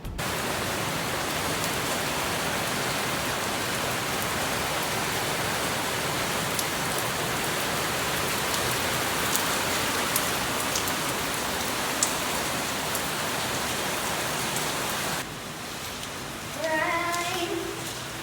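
Steady rain pours down in a dense, even hiss, with a few louder drops; near the end it eases and a brief sound rises.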